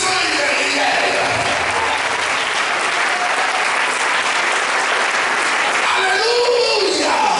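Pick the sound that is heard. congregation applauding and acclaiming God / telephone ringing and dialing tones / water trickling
congregation applauding and acclaiming God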